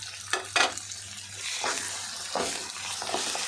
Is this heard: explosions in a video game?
no